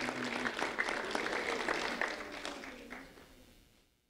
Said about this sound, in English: a round of applause for Adelaide Hernandez Gonzalez